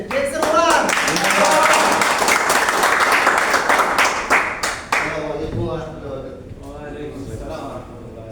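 An audience claps to welcome a speaker onto the stage, dense applause for about five seconds that thins out and fades, with voices talking over it and continuing as the clapping dies away.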